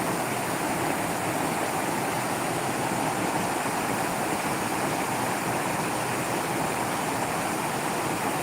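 A stream flows in a loud, steady, unbroken rush of water heard close by, with no voices.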